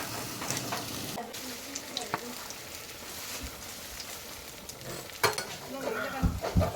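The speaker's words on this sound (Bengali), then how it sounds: "তো হলুদ দিয়ে শাকটা রান্না করছি, সাথে একটু চিংড়ি মাছ দেওয়া হয়েছিল।" Greens cooking in a pan with turmeric and shrimp, giving a soft continuous sizzle with scattered utensil scrapes and taps and a louder stir near the end.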